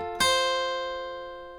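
A single guitar note plucked from the strings of an electric or acoustic guitar in a solo line rings out clearly and decays slowly, heard alone.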